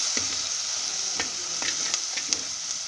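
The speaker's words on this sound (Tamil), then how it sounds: "இப்போ இந்த எண்ணெயில் வந்து இதில் நம்ம வதக்கிக்கலாம்" Spices fry in oil in a clay pot for a sardine fish curry, a constant close sizzle with intermittent stirring scrapes and taps, no voices.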